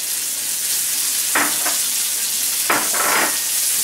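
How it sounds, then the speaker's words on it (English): Garlic and onions sizzle in a frying pan, with a steady frying hiss throughout and two brief louder bursts, like stirring or food shifting in the pan. "You'll know it's right when you hear the sizzle."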